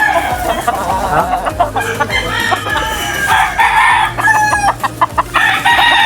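A chicken bought at a farm in Payatas, Quezon City, crows and clucks loudly and close by, its calls running continuously with other fowl sounding in the background and no one talking.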